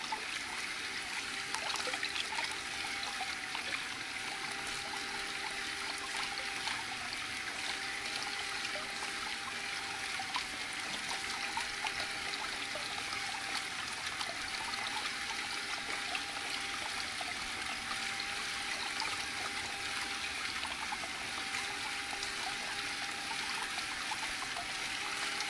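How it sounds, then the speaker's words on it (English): Water runs steadily through a Desert Fox spiral gold panning machine, a soft, even trickling and gurgling flow that continues throughout with no talking. "This is called a Desert Fox spiral panning machine."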